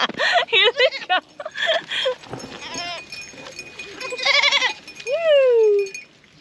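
Goats on a homestead bleat repeatedly up close, a run of short wavering calls followed by longer drawn-out bleats, with a person's voice briefly mixed in.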